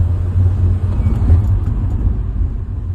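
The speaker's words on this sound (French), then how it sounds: "Je vais accélérer un tout petit peu, on s'écoute ça quand même." A Mini Paceman All4 Cooper S with a 1.6-litre 184 hp engine accelerates gently on a straight road, heard from inside as a steady, loud low engine and road rumble with no distinct revs or voices.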